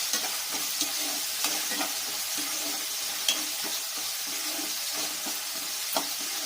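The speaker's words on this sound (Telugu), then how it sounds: "ఇవన్నీ వేసి బాగా ఫ్రై చేయాలి." Oats upma ingredients fry with curry leaves in a pan, making a soft continuous sizzle with intermittent scraping strokes and light clinks from a stirring spoon, fairly quiet and close.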